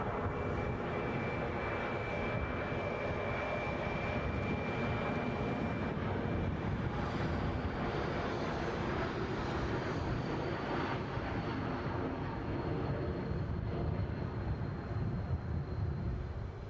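Air France airliner at Edinburgh airport, its jet engines roaring loud and close in a steady, broad rumble with a thin whine held throughout, no voices over it.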